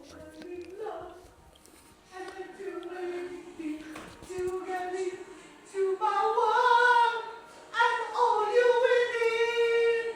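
A voice sings a song loudly in sustained, wavering phrases that swell and grow stronger toward the end, with some background clatter.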